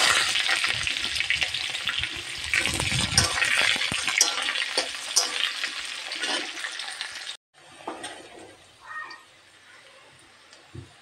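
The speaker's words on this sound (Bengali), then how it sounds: "দিয়ে দিলাম কয়েক কোয়া রসুন, কুচনো পেঁয়াজ," A few garlic cloves and chopped onions fry in hot oil for a Bengali egg curry, giving a loud, close, continuous sizzle with stirring. After a short cut it drops to a quieter, softer crackle.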